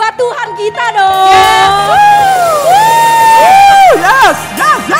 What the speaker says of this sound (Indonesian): tepuk tangan buat Tuhan kita dong.